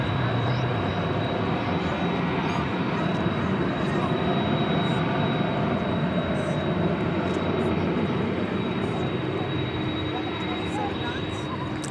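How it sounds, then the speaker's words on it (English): A Flight 80 airliner from London Heathrow circles in on approach to DFW Airport at night, a loud steady roar of engines dense and continuous throughout, with a thin steady whine above it. "we've got Flight 80 from London Heathrow coming up, circling around to come and see us now"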